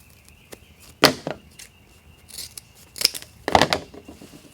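Scissors snipping across the folded edge of ribbon for a wreath bow, a few crisp close cuts in quick bursts with quiet pauses between, no talking.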